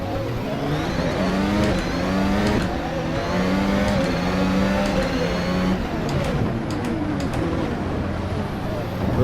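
A VRC Formula Alpha 2022 race car in Assetto Corsa at Spa, in Alfa Romeo livery, with its engine droning steadily and rising through gears with sweeping pitch changes and sharp shift clicks.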